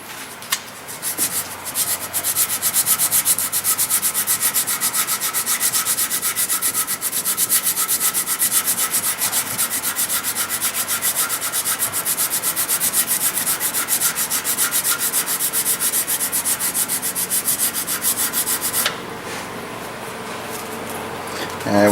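Continuous rubbing and sanding as a sanding dowel works the wooden barrel channel of a Ruger M77 Mark II rifle stock, a steady close scraping texture that holds at an even level, then drops slightly softer near the end.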